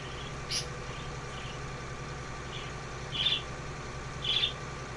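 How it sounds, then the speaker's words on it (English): Short chirps from a bird sound a few times at a moderate distance over a low, steady engine idle, each call brief and clear. "Oh, chirp chirp!"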